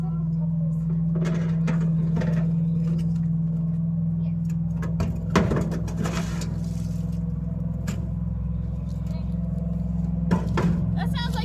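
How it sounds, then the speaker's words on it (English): A truck engine strains as it climbs back up a hill, a steady low drone that holds throughout while people talk over it. "That sounds like his truck's having a heck of a time coming back up that hill."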